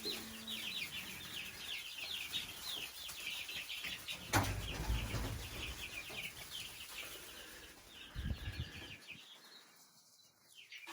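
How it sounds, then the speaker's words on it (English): Young chicks move around a new habitat on a farm, with a quiet mix of faint cheeping, clucking and brief wing flapping and scuffling, close but soft, with no talking. "These chicks are starting to explore their new habitat."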